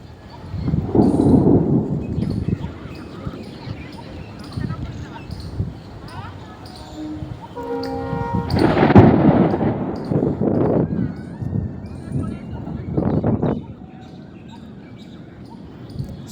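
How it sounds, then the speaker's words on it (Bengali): Thunder from a storm over the Ganges, deep low rumbles swelling near the start and again around the middle, mixed with intermittent talking and background activity. "প্রচুর বজ্রপাত হচ্ছে"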